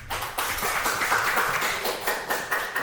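A church congregation claps after a Korean Sunday worship service, steady dense applause from a crowd in a hall, sustained for a few seconds.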